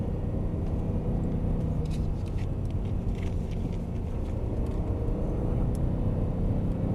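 A BMW M3 E92 on a race circuit, heard as a continuous dense engine and road rumble from inside the car, steady and loud across the whole stretch, with no talking.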